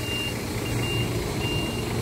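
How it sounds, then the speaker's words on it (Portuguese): A truck moves slowly through a Brazilian Independence Day street gathering in Joinville, Santa Catarina, its reversing alarm sounding as a steady high beep over continuous engine rumble and crowd noise. "Tá subindo o caminhão, subindo e descendo aí"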